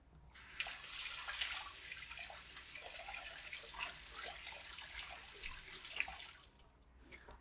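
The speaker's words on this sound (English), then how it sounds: "I will then rinse my hands" A kitchen tap runs quietly while hands are rinsed under it, making a soft, steady splashing that cuts off near the end.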